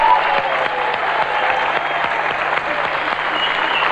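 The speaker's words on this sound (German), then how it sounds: "Und jetzt wollen mal wir für euch Applaus geben und Dankeschön sagen." A television variety show audience in Australia in 1995 gives sustained, dense applause at the finale, a steady wash of clapping from a large crowd that holds at an even level throughout with no voices on top.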